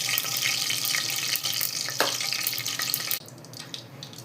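Oil and ghee poured into a hot pressure cooker for mushroom pulao, giving a steady close hiss and sizzle that runs loudly, then drops away abruptly near the end to a faint crackle.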